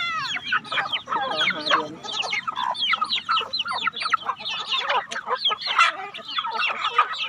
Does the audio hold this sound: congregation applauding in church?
no